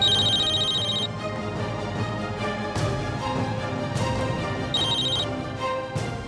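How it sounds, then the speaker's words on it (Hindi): A phone rings in repeated electronic bursts, two clear rings separated by a pause, fairly close, with background sounds in between and no speech. "रणवीर का फोन"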